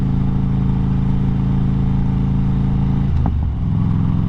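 Harley-Davidson motorcycle engine holding a steady, loud low drone, then a sudden dip and clunky burst as the gear is kicked in, after which the engine note settles lower and rougher.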